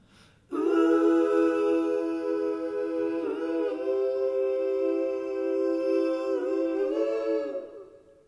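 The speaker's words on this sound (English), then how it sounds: "Now, just going back to those auto-panned vocals that sound like this." Auto-panned vocals in a mix heard in mono: a single sustained sung voice with a bright harmonic tone, holding steady for about seven seconds with slight shifts before fading, alone and fairly loud.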